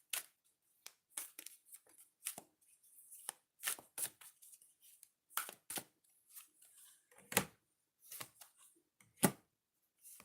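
Oracle cards being shuffled close up come through as quiet, irregular bursts of riffling and snapping cards with near silence between them.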